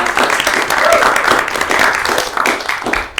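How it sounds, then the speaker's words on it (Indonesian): An audience at a podcast discussion with ITB university alumni claps in a burst of applause. The clapping is loud and dense, lasts about three seconds, and fades toward the end. "Boleh kasih aplaus dulu, guys."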